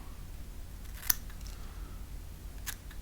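Scissors snip excess material off a modified fishing jig mold, two sharp close cuts about a second and a half apart over a quiet background.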